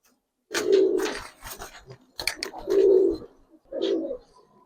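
Giribaz and coloured pigeons coo in three loud, close, rounded bursts, with soft rustling and small clicks between the calls.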